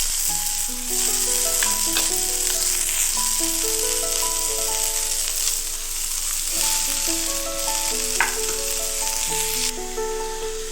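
Onion, garlic and ginger sautéing in a pan for a veg momo filling give a steady, even sizzle with light rattling stirs, running under melodic background music.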